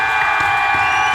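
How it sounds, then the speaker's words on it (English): Crowd at a live attempt at the world record for most free throws in one hour cheering loudly in a brief, continuous roar with shrill shouts mixed in. "And the crowd still goes crazy."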